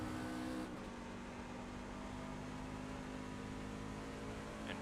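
A race truck engine at World Wide Technology Raceway in iRacing drones steadily at high revs, a continuous loud buzzing hum with slight pitch shifts, alone without talking.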